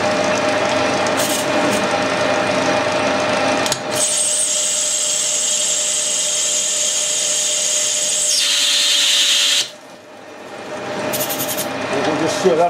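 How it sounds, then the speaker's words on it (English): A metal lathe turns an aluminium bronze bar down into a bush. Its steady mechanical drone carries a high whine through the middle, then drops away and comes back near the end. "I've got a bit of aluminium bronze bar in the lathe"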